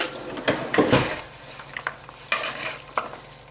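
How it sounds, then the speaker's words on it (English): A broccoli crunch salad with celery gets stirred in a bowl: several close, uneven scrapes and clatters, a cluster of louder strokes early and a few sharper knocks later, with no talking. "now let's stir this up and see what this looks like"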